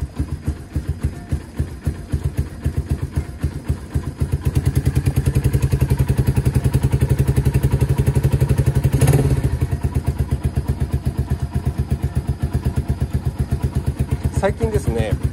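A battery-less motorcycle, kick-started, fires up and runs with a rapid, loud thumping beat, the idle rising in intensity briefly then holding steady, with someone speaking occasionally nearby.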